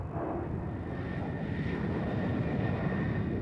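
A de Havilland Vampire T Mark 55 two-seat jet trainer flies at the 1994 International Air Tattoo at RAF Fairford, a steady loud roaring jet rumble held throughout.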